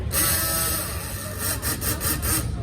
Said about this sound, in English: we hold the chuck of the drill down to create a louder sound where it runs against the gears